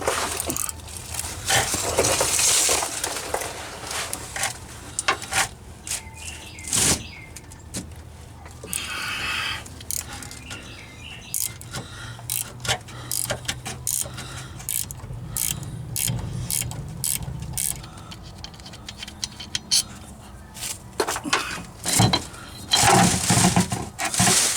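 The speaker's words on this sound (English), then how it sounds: "So I usually get over a ratchet wrench, get up inside here, and take these out, 5/16." A ratchet wrench turns out 5/16 transfer case bolts under a Jeep Cherokee XJ, giving close, rapid clicking runs broken by metallic clanks and pauses, loud and continuous with no talking.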